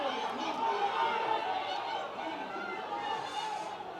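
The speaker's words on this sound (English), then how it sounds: "Crowd not happy with that decision, it sounds like" The crowd at a Carnew Emmets v Kiltegan hurling semi-final keeps up a steady, unsettled murmur of voices and chatter after a referee's decision, with no single shout standing out.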